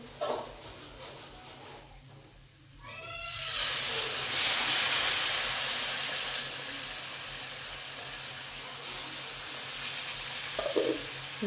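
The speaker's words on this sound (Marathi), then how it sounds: "आता पहिला त्याच्यामध्ये थोडंसं येळवणी टाकते." Gram flour slurry hits hot masala in a pan and breaks into a loud, bright sizzle that holds steady, then slowly eases into a softer hiss with a faint scrape of stirring near the end.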